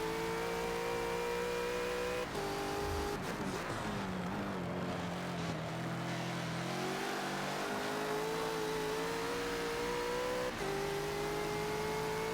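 A Bentley GT3 race car in Forza on the Laguna Seca track roars loud and close, its engine revving and shifting through gears in steady pitch sweeps, with no voices over it.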